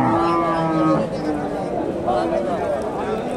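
Cattle at the Dakumara cow market in Bangladesh, where local pregnant cows are sold, give a drawn-out moo near the start over a steady bustle of voices and crowd noise.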